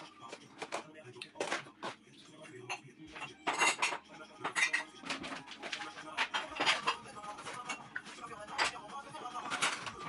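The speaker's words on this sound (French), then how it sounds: "je vais faire la vaisselle" Dishes and cutlery clink and clatter irregularly, plates and utensils knocking together close by, with running water faintly underneath.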